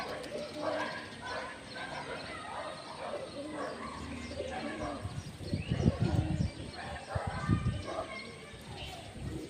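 Pigeons coo softly in low repeated calls amid flapping and general background noise, with a dog barking faintly nearby.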